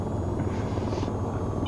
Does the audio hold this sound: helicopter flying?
yes